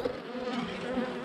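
Agitated bees from a lost swarm buzz close by in a steady, dense drone with fluctuating pitch and no voices over it.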